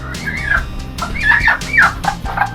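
Roosters and other fowl in a farm's rooster room give repeated loud crowing and clucking calls, several birds overlapping close by with no talk.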